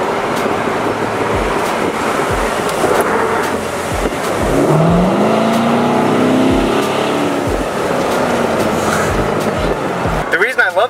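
A 2018 Ford Mustang GT accelerating, its V8 engine rising in pitch through the gears as a loud, steady drone from inside the car, with a few sharp knocks.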